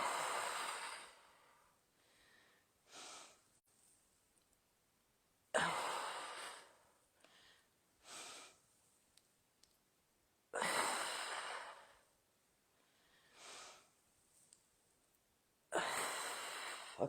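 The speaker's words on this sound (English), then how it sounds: "Some nice deep breaths." Slow, deep breaths during a workout cool-down, with loud breathy exhales roughly every five seconds and softer, shorter breaths in between, close and clear in an otherwise quiet space.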